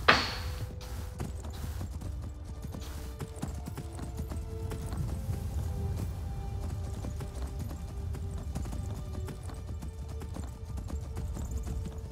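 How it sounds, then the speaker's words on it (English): Horse hooves clip-clop at a steady gallop in the Skyrim video game, a continuous rhythmic pounding that runs the whole stretch, with a brief whinny near the start and no talk. "now let's ride our new horse."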